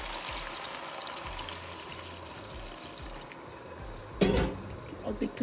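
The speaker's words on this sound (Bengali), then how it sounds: "এবার দিয়ে দেবো একদম ফুটন্ত গরম পানি।" Boiling water is poured briefly into a pot of frying chicken for biryani, a short splashing gush near the end rising over a low, steady sizzle.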